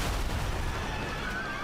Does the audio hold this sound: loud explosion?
yes